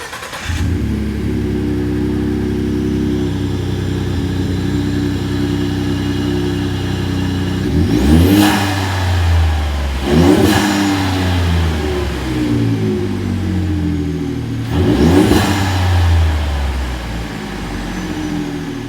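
A 2015-2016 Ford F-150 with the 3.5L EcoBoost and a K&N AirCharger cold air intake idles with a steady rumble, then is revved three times, each rev rising sharply and falling back, loud and close.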